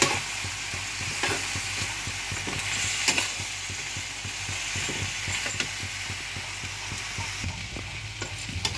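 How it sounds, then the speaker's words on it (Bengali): Tomato paste sautéed with flat beans and potatoes in a pan for a bean-and-potato curry: a dense, continuous close-up fry sizzle with regular scraping strokes of a spatula stirring throughout, no talking. "এই টমেটো বাটাটাকেও কিন্তু ভালোভাবে কষিয়ে নিতে হবে"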